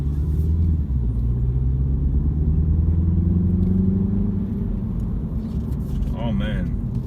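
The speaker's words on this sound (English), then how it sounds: "Oh man, it sounds good with the engine." A 2017 Mini Cooper S engine heard from inside the car on a test drive, a close, steady low rumble with rising tones as it pulls, continuous throughout; someone speaks briefly near the end.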